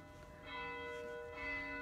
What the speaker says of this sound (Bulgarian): Надявам се, че чуваш камбаната.